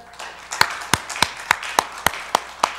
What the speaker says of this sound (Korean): 우리 뜨겁게 박수로 격려하며